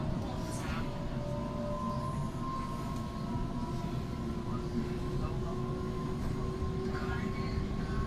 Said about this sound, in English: So it's an all-stops train from Central back to Epping.